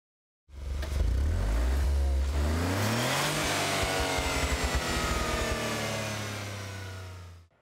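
A Renault Twingo GT, the Renault Sport-tuned compact with a six-speed DCT, revs hard close by: the engine note climbs through rising sweeps, then holds a loud, steady drone before fading out.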